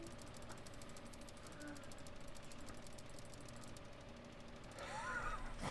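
Tractor engines in the farming game Farming Simulator 15: a faint, steady mechanical idle with rhythmic knocking pulses, growing slightly louder and busier near the end.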